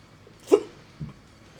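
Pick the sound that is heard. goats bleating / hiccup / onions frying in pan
hiccup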